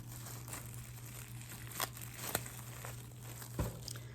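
Plastic packaging crinkles and crackles in a steady, close rustle while it is cut open with pink scissors, with a few sharper snaps and a low steady hum underneath.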